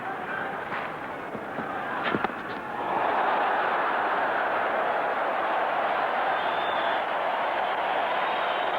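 A large cricket crowd at the Melbourne Cricket Ground during the 1990 World Cup final, Australia against Pakistan, swells into a loud, sustained roar and jeering as Imran Khan walks to the crease, with a few sharp pops early on.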